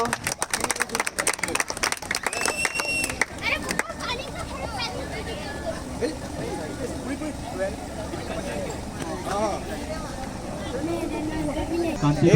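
Applause breaks out at a tournament opening ceremony in Atul Kanchan Nagar, a crowd clapping steadily beneath an announcer's voice and general hubbub, loudest in the first few seconds.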